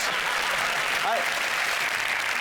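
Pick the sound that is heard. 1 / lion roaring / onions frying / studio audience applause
studio audience applause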